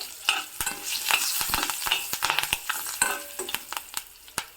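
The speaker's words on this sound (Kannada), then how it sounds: "ಒಗ್ಗರಣೆ ಆಲ್ಮೋಸ್ಟ್ ಆಗ್ತಾ ಇದ್ದಾಗೆ ಕರಿಬೇವನ್ನು ಸಹ ಹಾಕಿದ್ದೀನಿ" Curry leaves hit hot oil in a tempering with turmeric, crackling and sizzling close up while a spoon stirs and scrapes the pan, with sharp pops scattered throughout.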